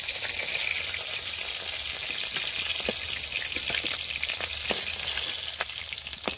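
Small chela fish sizzle in hot oil in a pan, a dense, continuous crackle with scattered sharp pops, loud and close with no talking.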